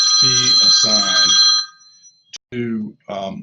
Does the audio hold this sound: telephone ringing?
yes